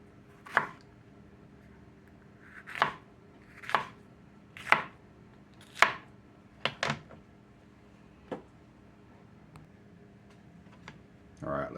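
Thick slices of jalapeño pepper cut with a knife on a board, about eight crisp chopping strokes at an uneven pace, fairly close and clear with no talk over them.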